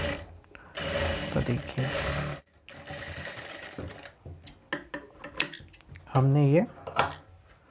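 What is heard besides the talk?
sewing machine stitching blouse neck corner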